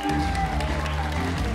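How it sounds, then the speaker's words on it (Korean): Audience applause for two teams at a Korean beatbox battle, the BBIC Korea Elimination 2018: a brief, loud wash of crowd clapping and cheering, with music and an announcer's voice underneath. "수고해준 두 팀에게 뜨거운 박수를 부탁드리겠습니다."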